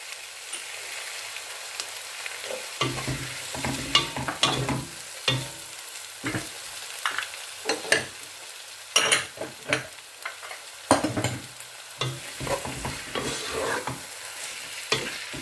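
Chopped tomatoes and chili stirred in a sizzling curry pan of chicken curry, steady frying hiss broken by repeated scraping stirs and clatters, close and fairly loud with no talking.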